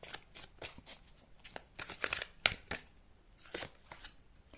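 Tarot cards shuffled by hand in a quiet room, a run of soft riffling and flicking bursts with one sharper snap near the middle, close and fairly faint with no talking.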